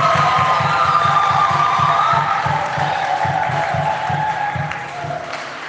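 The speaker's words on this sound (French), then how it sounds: "Applaudissez pour les femmes." A church congregation at an Easter vigil Mass applauding, a loud, sustained wash of clapping and crowd noise that fades slightly toward the end.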